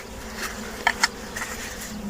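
Honeybees buzzing steadily close by at a hive, a low droning hum with a few sharper passes as individual insects fly near.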